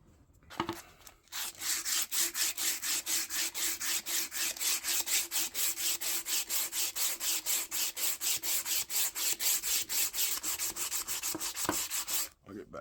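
80-grit sandpaper rubbed by hand along a lacquered wooden ball peen hammer handle makes fast, even rasping back-and-forth strokes, close and loud, continuing rhythmically for about eleven seconds before stopping.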